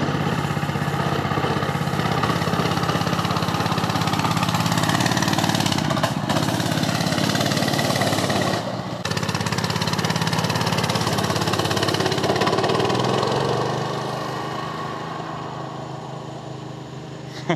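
Small petrol engine on an amphibious kart runs at full throttle, a loud, steady buzzing drone with two brief dips, then easing lower and fading slightly toward the end.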